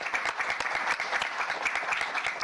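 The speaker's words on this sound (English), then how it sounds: "let's give them a great round of applause for what they've done" Sustained applause from an audience at a city council meeting honouring award recipients, a dense, steady patter of many hands clapping without a break.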